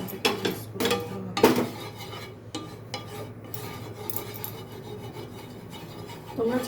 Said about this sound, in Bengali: এভাবে পুরো প্যানটাকে গ্রিস করে নিতে হবে।